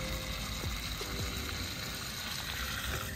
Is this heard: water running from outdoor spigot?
yes